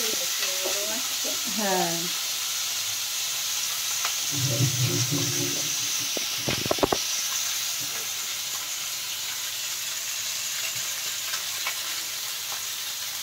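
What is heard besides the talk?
fish frying in hot oil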